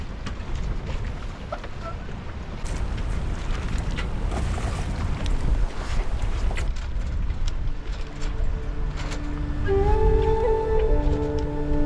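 A sailboat rocks on waves in wind, with steady rushing wind and water noise, creaks and knocks of the hull and rigging, and whistling tones rising near the end, all fairly close and continuous.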